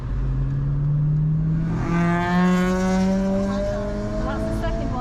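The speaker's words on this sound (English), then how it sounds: "Accelerate a lot more, really quickly, and then change gear" Car engine accelerating hard while entering a roundabout on a driving lesson, its revs climbing steadily in pitch over a few seconds, close and fairly loud inside the car.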